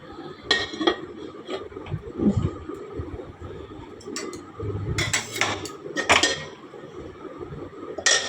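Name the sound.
covering a cooking pot with a lid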